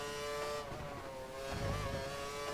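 A Formula 1 car at Brands Hatch in F1 2013 screams at high revs, the engine note dipping briefly then climbing again as it accelerates hard, loud and continuous.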